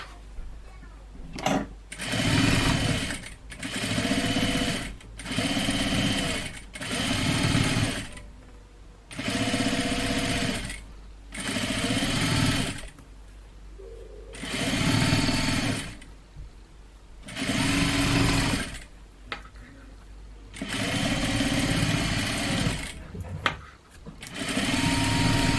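Sewing machine top stitching a fabric piece for suspenders or a bow tie, running in repeated bursts of steady whirring separated by brief pauses, close and fairly loud, with a voice talking over some of the stretches.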